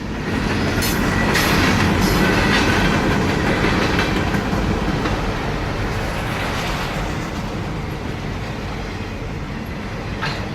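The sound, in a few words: mixed freight train passing Huntsville Depot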